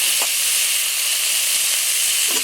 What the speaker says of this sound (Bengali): মশলাটাকে নেড়ে চেড়ে বেশ সুন্দর করে কষে নিয়েছি এবারে দিয়ে দিচ্ছি আলু